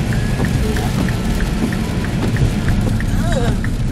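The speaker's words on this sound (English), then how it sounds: "look at all the rain" Heavy rain pours steadily through a storm after a brief windstorm, a dense wash of falling drops with faint intermittent chirps over it.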